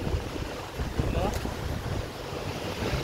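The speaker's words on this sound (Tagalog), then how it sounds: "Ang lakas ng hangin." Strong typhoon wind roars and buffets the microphone steadily, with a rushing, surf-like noise throughout.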